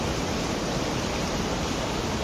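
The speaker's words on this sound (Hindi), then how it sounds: "इतना नाला भर के आया दोस्तों, बहुत ज़्यादा भर के आया है, देख सकते हो" A drain swollen with water after the first heavy monsoon rain rushes past in a loud, continuous, broadband roar, steady and close throughout with no pauses.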